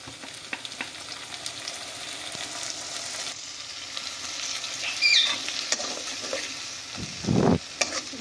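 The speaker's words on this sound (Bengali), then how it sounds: "মশলাটাকে দেখো আমরা খুব ভালোভাবে ভাজা করে নিচ্ছি" A ground spice paste sizzles and crackles softly in oil, with occasional spatula scrapes and clinks against the pan as it is stirred.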